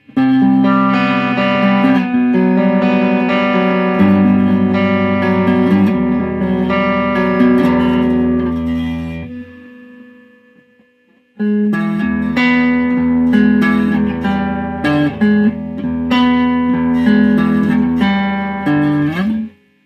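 A distorted electric guitar on a Slick World Tour Series HSS Strat-style guitar with Alnico 8 humbuckers, neck pickup, plays sustained chords and riffs, loud and full, stopping briefly before resuming with more rhythmic strumming, with slight hum.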